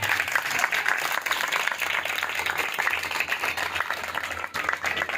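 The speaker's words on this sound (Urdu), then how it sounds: "آئیے خداوند کے جلال کے لیے ایک دفعہ اور تالیاں بجا کر خدا کا" A church congregation claps together in praise, a dense, continuous burst of hand clapping filling the room at close range and holding steady throughout.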